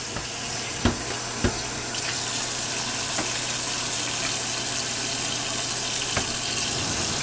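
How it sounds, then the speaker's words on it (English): Tap water runs steadily into a cooking pot being filled for chicken broth, giving a constant rushing hiss with a few light clanks close by. "I'm going to fill it with water, because you need plenty of broth"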